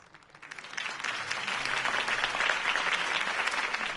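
A video game crowd bursts into sustained applause, many hands clapping steadily and loudly at a close-to-middle distance, with no talking over it.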